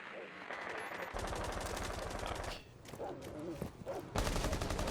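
Rainbow Six Siege gunfire tears through a wall in rapid automatic bursts, loud and close, separated by a brief lull and broken into stuttering volleys with sharp impacts.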